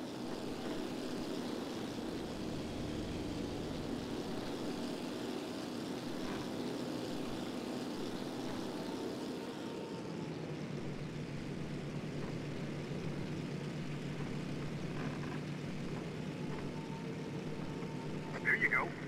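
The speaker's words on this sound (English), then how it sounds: "Go, give it a flyby." A WWII propeller plane flies low over Pearl Harbor in Damage Inc. Pacific Squadron, its steady engine drone holding throughout and shifting in tone midway as it passes, with talk over the top.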